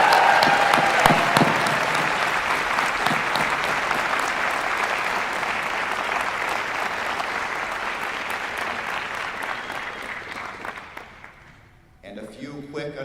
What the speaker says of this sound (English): Let us shower them with another resounding round of applause.